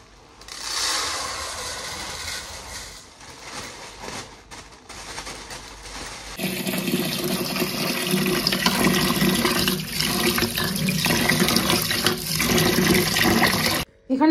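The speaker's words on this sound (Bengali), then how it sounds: "আর এই চালটাকে এবার খুলে নিয়ে ভালো করে ধুয়ে নেব।" Rice is washed in water for biryani. Running water splashes and rushes loudly for several seconds, with softer handling of water beforehand.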